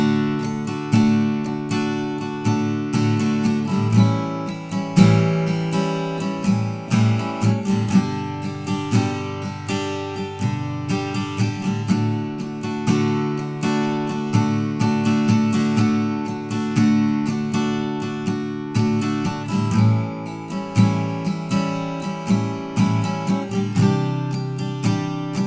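Acoustic guitar strumming the chorus chord progression of a song, a steady rhythmic pattern of bright strokes, close and alone with no talking.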